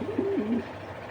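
A racer pigeon gives a single short, close coo that rises, holds, then dips, over a faint steady background hum.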